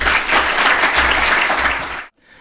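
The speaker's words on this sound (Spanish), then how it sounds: "Por favor, un aplauso para Luis Márquez." Loud, dense applause from a forum audience welcoming a speaker on world agriculture, steady crowd clapping that cuts off abruptly near the end, leaving near silence.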